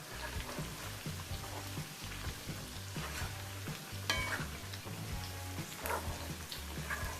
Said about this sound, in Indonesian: daging yang gorengan yang kedua akan aku aduk sebentar, baru nanti kita tiriskan